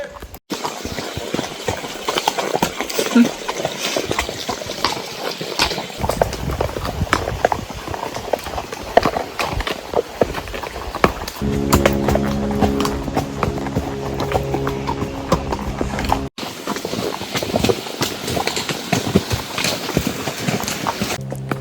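Steady clip-clop of horse hooves walking along a Smoky Mountains trail, rhythmic and close, with a faint engine-like hum entering partway through.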